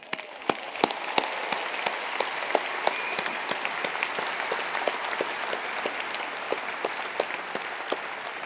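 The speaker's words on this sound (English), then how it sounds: "how about another round of applause?" An audience applauds a guest at a university commencement ceremony, a steady wash of many hands clapping with a few sharper individual claps standing out, sustained at an even level throughout.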